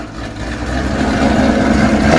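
A supercharged V8 in a Shelby GT500, fitted with a 3.6-liter Kenne supercharger, is revved once, building into a loud, steady, rumbling roar up close with no voices.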